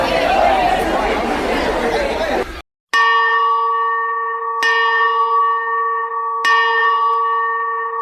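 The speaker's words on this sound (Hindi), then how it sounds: "जैसे ही स्कूल की छुट्टी की घंटी बजी" A loud school bell rings three times at steady intervals for the end of the school day, each strike ringing out with a long sustained tone, after a burst of noisy crowd chatter.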